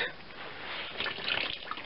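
Water drips and trickles from a squeezed piece of flannel into a bucket of water, a soft, steady patter with small splashes, close by and fairly quiet, with no talking.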